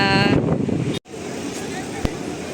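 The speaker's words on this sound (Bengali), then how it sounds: "ছাদে প্রচণ্ড হাওয়া দিচ্ছিল, কথা বলা যাচ্ছিল না ঠিক মতন।" Strong wind buffets a hotel rooftop in Puri, a loud, rough roar rumbling against the microphone with a brief drop-out, while a voice talks under it.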